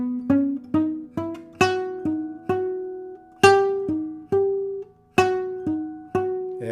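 Plucked guitar notes play the In the Hall of the Mountain King melody, with some notes accented harder than others. The notes are clean and close, each decaying before the next, in a steady march-like rhythm with no talk.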